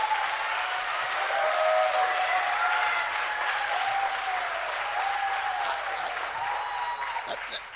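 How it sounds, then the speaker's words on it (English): Sustained audience applause fills a hall during a mayoral candidate forum in Springfield, MA, steady and dense clapping from a crowd with a few whistles rising over it, holding at even loudness throughout. "the applause keeps costing me my time"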